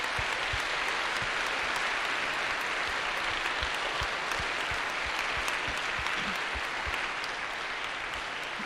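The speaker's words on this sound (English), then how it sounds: "So if we can just give them a round of applause" A church congregation gives a sustained round of applause at a vespers service, steady and even throughout, with a wash of many hands and distinct nearby claps standing out.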